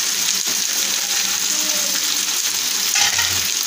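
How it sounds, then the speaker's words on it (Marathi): Fish fries crisp in hot oil on a tawa, a brief loud, dense sizzle with a few clinks and a small bump near the end, close up and without voices. "तसं कडक आपल्याला हा फिश तळून घ्यायचा आहे।"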